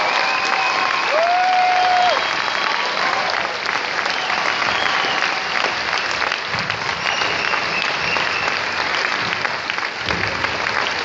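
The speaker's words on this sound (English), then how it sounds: "Give Robert Gumede a big round of applause" Steady, loud applause from a live audience at an interview event with Steve Wozniak fills the whole stretch, dense and sustained without talk, with a few faint whoops.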